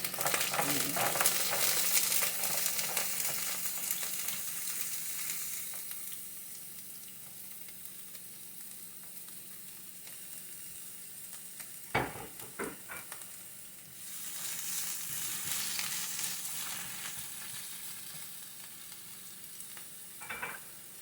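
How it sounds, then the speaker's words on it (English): Carrots fry and sizzle steadily in a pan, with bursts of scraping as they are stirred about; the hiss is loud at first, eases midway, then returns strongly, with a few sharp clatters of the utensil. "Guess we'll go ahead and add the carrots first"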